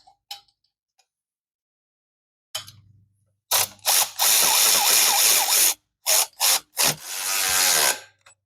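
A ratchet runs up the exhaust bolts on a Yamaha R7 during a Dominator exhaust install, with a few faint ticks, then loud, close bursts of rapid clicking broken by short pauses as each bolt is worked evenly.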